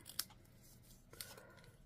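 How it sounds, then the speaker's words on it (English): Large scissors snip through paper twice, each a short crisp cut about a second apart, quiet and close in an otherwise still room. "And then I like to use my larger scissors when I do this."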